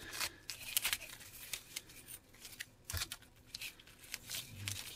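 Scissors make repeated quick snips and crisp cuts while trimming tape-covered scrap foam for craft bushes, close up with brief rustling between cuts.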